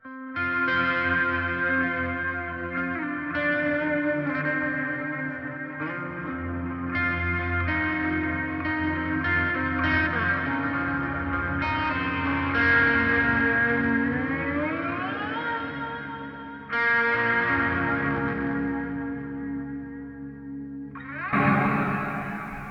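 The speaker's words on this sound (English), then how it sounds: "the primary reverb that I have set up is the Abyss, so I have a lower octave on the reverb." A sustained electric guitar tone through an Abyss reverb with a lower octave washes out in long, shimmering reverb with a deep lower octave beneath, swelling and bending before a brighter burst at the end.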